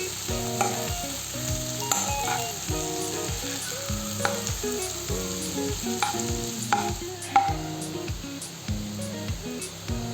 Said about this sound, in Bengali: এখন এগুলোকে খুব ভালো করে ভেজে নেব। পেঁয়াজ রসুনের গা থেকে তেল ছোটা পর্যন্ত ভেজে নিতে হবে।